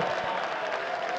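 A darts crowd at the Austrian Darts Open 2017 applauds and cheers a 180 in a dense, steady wash of clapping and voices that fills the hall throughout.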